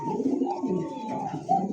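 A pigeon coos in low, rolling, throaty pulses, close and fairly loud, repeating across the moment with a stronger burst near the end.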